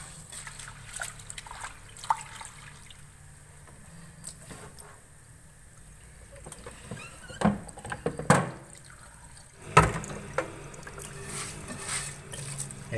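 Grain for mushroom grain culture washed by hand in water, with soft sloshing, trickling and occasional clinks of a container, louder splashes near the end, no talk.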